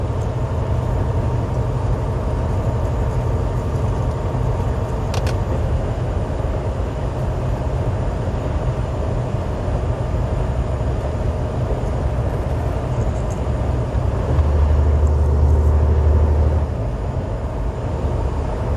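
Fast traffic on Interstate 70 over Vail Pass, heard from inside a slow-moving vehicle climbing toward the Eisenhower Tunnel, a continuous low engine and road rumble that swells briefly near the end, no voices.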